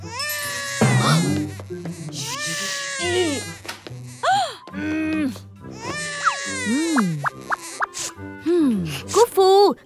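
A cartoon baby cries and wails in bursts, mixed with cartoon characters talking over and between the cries, with a few plopping effects.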